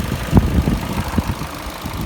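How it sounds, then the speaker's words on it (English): A 1.8-litre petrol engine in a Vauxhall Insignia idles close by with a low, even rumble and soft rhythmic pulses, no voices over it. "listen to that run. The engine doesn't shake at all. It is running perfectly still."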